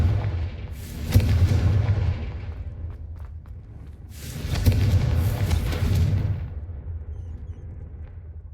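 Two heavy, booming fire-spell blasts from the Confringo curse in Hogwarts Legacy, each a deep explosive burst that swells and rumbles away for a second or two, spaced a few seconds apart.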